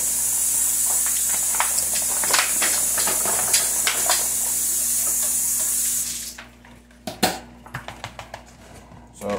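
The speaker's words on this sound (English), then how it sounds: "rinse this bowl off really fast." A bowl rinsed under a running kitchen tap, with steady hissing water for about six seconds before it cuts off, followed by a few close clinks and knocks as the bowl is handled.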